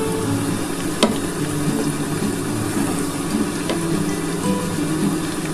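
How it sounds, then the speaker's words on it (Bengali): Potatoes and drumstick pieces frying in hot oil with five-spice, a steady close sizzle with a couple of sharp clatters of stirring, no voices. "আমার পাঁচফোড়নটা একটু গরম হয়ে গেলে আমি কিন্তু আলু আর ডাঁটাকে একসাথে দিয়ে দেবো।"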